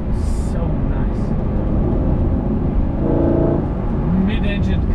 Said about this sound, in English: Oh, you hear that? You hear it building up the revs.